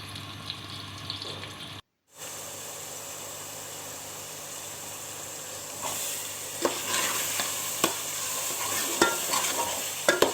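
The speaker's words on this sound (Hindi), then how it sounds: "अब इसके बाद हम तड़का लगाते हैं" Tadka tempering for saag sizzles and crackles in a hot pan, a steady frying hiss with sharper pops and stirring clatter building in the second half; a brief silent gap near the start.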